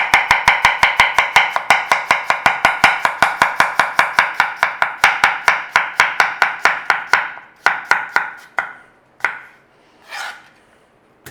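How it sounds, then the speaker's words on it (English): A knife slices peeled potatoes on a board in a fast, steady run of crisp, loud cuts close by, slowing to a few spaced strokes and a final scrape at the end, with no talking. "So I've peeled my potatoes and we're slicing."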